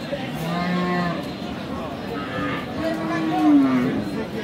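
Friesian cows moo at a cattle market, several drawn-out lowing calls near and far, with people talking and crowd chatter underneath.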